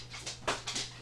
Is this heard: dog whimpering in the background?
yes